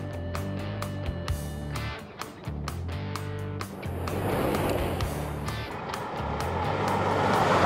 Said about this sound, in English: The slightly popular VPUV races down the track with that Explorer in tow.